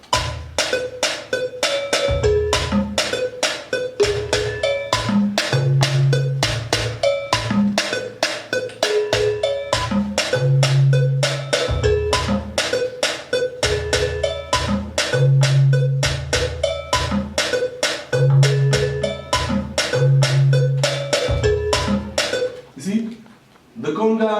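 A loud, steady conga drum groove repeats throughout: low tuned thumps under sharp, bright slaps, looping at an even tempo with no talking.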